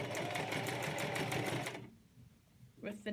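A sewing machine stitches cloth face mask fabric in a fast, steady, close whir that stops partway through, with a brief voice at the end.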